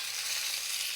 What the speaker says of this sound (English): We are left to sear the meat.